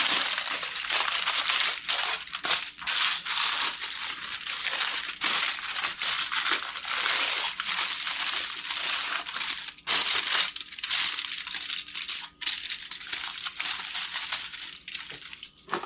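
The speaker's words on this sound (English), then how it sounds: "we're gonna wrap this in foil" Aluminium foil crinkles and crumples loudly and continuously as it is wrapped around an eggplant for roasting on the stove, with no talking.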